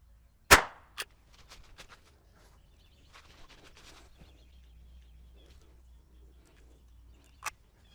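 A sharp, loud single crack from a Winchester .22lr shotshell fired outdoors, followed by a smaller pop, faint birdsong and another short snap later.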